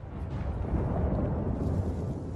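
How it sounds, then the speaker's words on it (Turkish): A low, continuous rumble rolling down from the mountains before an earthquake, dense and steady throughout with no distinct breaks. "Dağlardan alçak bir gümbürtü geldi."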